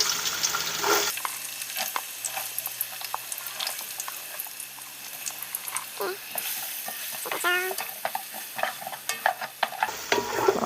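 Chopped onions frying in hot oil for a Bolognese sauce, a steady close sizzle with occasional stirring scrapes and clinks, running continuously with no voices.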